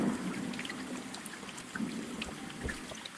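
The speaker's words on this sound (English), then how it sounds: "The tank has these tropical storms 5 times a day." Simulated rain in a terrarium tank patters and trickles onto surfaces nearby, a soft continuous wash with scattered drips and no talking.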